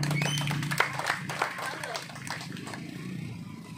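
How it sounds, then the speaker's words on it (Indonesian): A church congregation at an evangelism gathering claps in praise, a burst of loud claps at first that thins out, with voices and a low hum of talk running underneath. "Tepuk tangan lu buat Tuhan Yesus"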